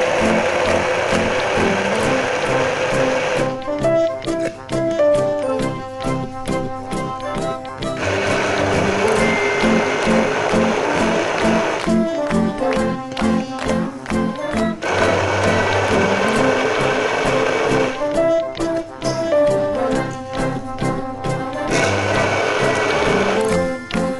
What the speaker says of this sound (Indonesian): Oke, aku blender dulu ya.